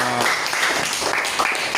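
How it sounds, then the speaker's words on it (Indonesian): A class audience gives brief, lively applause after a student group presentation, short scattered clapping with some murmuring voices. "Tepuk tangan yang meriah."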